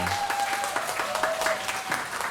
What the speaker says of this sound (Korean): 우리 연주자분들도 다시 한번 박수 부탁드립니다